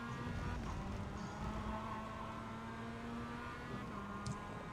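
A Mazda MX5 racing car's engine drones steadily at Suzuka in the iRacing video game, a sustained buzzing tone with faint pitch shifts as it pulls back onto the throttle.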